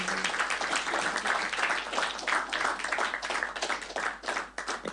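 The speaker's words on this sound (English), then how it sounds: "Can we give you a round of applause" An audience claps together at a religious talk on the Srimad Bhagavatam held by ISKCON in Coventry, producing dense, loud applause that carries on steadily for the whole stretch.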